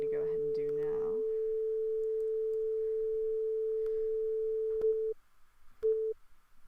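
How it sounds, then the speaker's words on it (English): A synthesized sine wave tone passes through a primitive ADSR envelope: a long steady pure tone that cuts off, then one short repeat. Faint noise sits beneath it. "So that is our sine wave that's going into like a really primitive ADSR"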